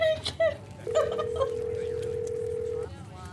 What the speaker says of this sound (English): pulls out her phone and dials it, waiting while it rings